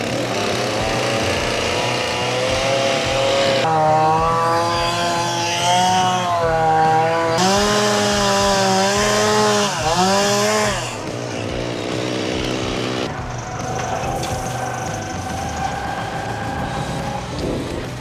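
A chainsaw with a gunked-up carburetor and dull chain runs roughly up close, its engine note surging and sagging unevenly, with a steady drone throughout and no speech.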